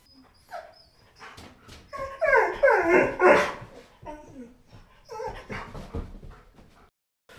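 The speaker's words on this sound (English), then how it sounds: "He looked up at Martin, began to bark at the unfamiliar figure, but the bark died in his throat." A dog barks at an unfamiliar figure near a cattle pen, and the bark falters and turns into a drawn-out whine, close by and alone with no talk.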